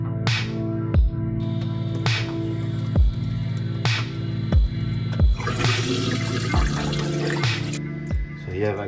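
A toilet that is leaking from inside flushes with rushing water, accompanied by repeated sharp knocks and a steady hum, close and fairly loud.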